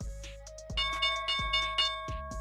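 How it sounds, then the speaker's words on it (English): The stock market opening bell rings in a rapid series of repeated metallic strikes, loud and clear with no talk over it. "Here's the opening bell right now."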